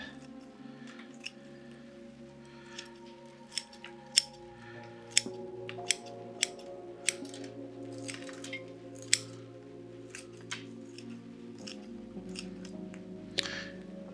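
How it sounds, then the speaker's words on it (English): Curved-edged bonsai scissors snip through excess roots on the flat underside of a deciduous tree's root pad, giving a series of crisp, close clicks and cuts spaced irregularly over a low steady background hum. "I like to use these curved edged scissors like this that still close well"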